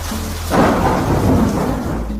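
Cartoon thunderstorm with heavy rain: a deep rolling thunder rumble swells after a brief quiet start and sustains over steady rainfall hiss, loud and close with no voices.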